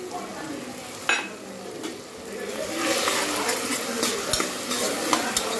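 Chopped tomatoes and curd frying in oil for vegetable biryani, a close bubbling sizzle that swells midway, with occasional spoon clicks against the pot and no voices.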